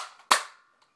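A Nerf Retaliator blaster fitted with an air restrictor mod fires once, giving a single sharp, loud pop with a short fading tail, preceded by faint handling noise and followed by a tiny click.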